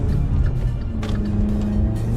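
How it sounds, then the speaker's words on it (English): Dodge Dart engine fitted with a cold air intake, heard from the back seat inside the car: a steady low drone and hum that stays even throughout, with no voices. "in the back seats, you can hear the engine really well"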